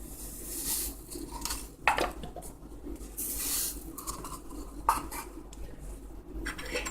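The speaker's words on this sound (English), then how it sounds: "I'm gonna start by mixing together my wet ingredients" A bowl of wet cake batter for peach cobbler cupcakes being mixed, with soft rhythmic scraping and stirring, plus a few sharper clinks of utensil against the bowl, close and moderately quiet.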